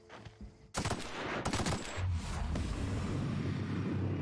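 Rapid gunfire in The Outer Worlds video game, a burst of loud close shots cracking in quick succession followed by a sustained roar and rumble, with no voices.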